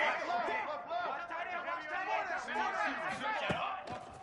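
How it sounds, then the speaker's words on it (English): A packed football stadium crowd roars throughout during the Ohio State vs Clemson game, a dense, continuous wash of noise with a broadcast commentator's voice talking over it. "Listen to this crowd just shaking the girders of this place, trying to help their defense."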